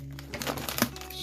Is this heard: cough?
no